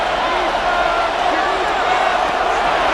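Steady roar of a stadium crowd in the Madden NFL 26 simulation, New England Patriots against Cincinnati Bengals on PS5, swelling before a third down, a continuous dense wash of cheering with a commentator talking over it.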